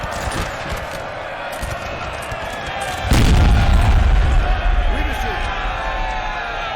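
Musket volleys crack across a Napoleon Total War 4v4 battlefield, with one heavy boom near the midpoint that rolls and decays over a steady battle din while a commentator talks throughout.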